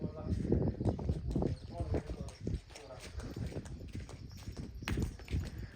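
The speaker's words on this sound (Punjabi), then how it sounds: "ਤੁਰਦੀ ਘੋੜੀ ਆ" A mare's hooves clop at a walking pace under near, continuous talk, the steps blending with voices and outdoor background.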